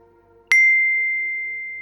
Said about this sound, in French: Le téléphone de l'inspectrice sonna dans sa poche.